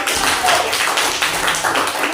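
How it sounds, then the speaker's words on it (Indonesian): A classroom claps for a group, a short burst of dense, close clapping lasting a couple of seconds. "Oke, tepuk tangan untuk kelompok 1."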